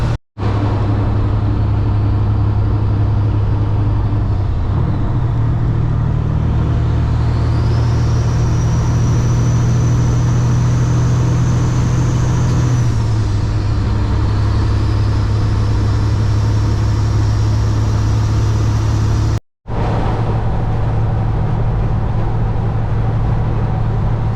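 A Kenworth W900 truck engine with an 18-speed Eaton Fuller transmission drones steadily and loudly up close, its pitch rising and falling as the revs change between gears, with a brief cutout near the end before the engine note resumes.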